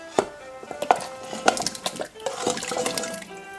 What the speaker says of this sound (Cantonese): 就加入咗1公升嘅熱水